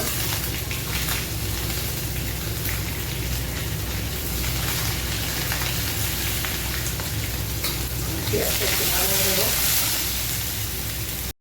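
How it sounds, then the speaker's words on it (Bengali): Onion sizzles and fries steadily in hot oil in a pan, a dense continuous crackle lasting throughout, with brief stirring or utensil clinks near the end. "এখন এর মধ্যে আমি পেঁয়াজটা দিয়ে দিব।"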